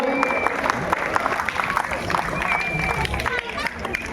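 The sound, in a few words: applause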